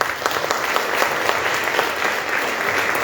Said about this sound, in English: You can start with the applause.